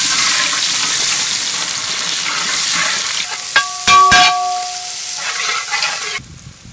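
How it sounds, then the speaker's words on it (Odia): Onions sizzling in hot oil with bay leaf, a loud steady frying hiss with a few sharp clatters and a brief ringing tone near the end before the sound cuts off. "ତେଜପତ୍ର ତେଲ ଗରମ ହେଇଗଲାଣି, ପିଆଜ ପକେଇଦବା।"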